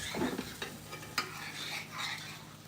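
Ribeye gravy is stirred in a pan, a soft bubbling sizzle with scraping strokes and one sharp utensil tap against the pan. No talking.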